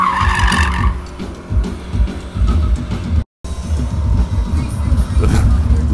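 Stunt car tires squealing through a burnout at the SEMA 2016 show, a loud, rough sustained roar with engine rumble and hiss, briefly cutting out, with crowd noise and voices mixed underneath.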